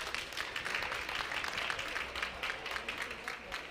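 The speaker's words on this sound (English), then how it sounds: "Can we give Peggy a round of applause?" A crowd applauds steadily throughout, a dense wash of many hands clapping at a moderate distance, with no speech over it.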